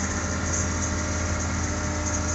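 A tractor engine idles in a field, a steady, close, unbroken diesel rumble with a deep low throb and a constant mechanical drone, with no voices over it.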